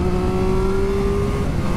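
Engine of a 2023 Triumph Street Triple RS motorcycle revving steadily as it winds up a climb, a sustained droning tone close and loud, with wind rush underneath and no talking.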